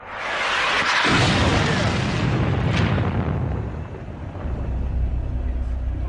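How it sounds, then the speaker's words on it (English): A huge airstrike explosion in the Iraq war, a close, heavy roaring blast that rumbles on for several seconds and then settles into a lower, continuing roar, with no voices. "orders an airstrike"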